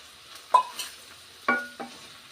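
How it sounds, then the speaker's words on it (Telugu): Potatoes with onions being stirred in a pan, heard as two pairs of close scraping clinks of a spoon on metal over an otherwise quiet background, with only faint sizzle. "ఉల్లిపాయలు వేగాయి ఇప్పుడు ఆలుగడ్డ వేసుకుందాము"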